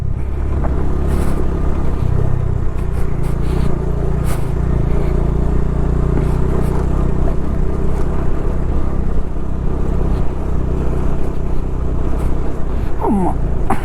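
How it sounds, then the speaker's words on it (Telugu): Heavy lorries labour uphill on a green mountain road on the way to Ladakh, a loud continuous low engine rumble and drone filling the whole stretch, with no break. "లారీలు ఎక్కడం కష్టపడుతున్నాయి"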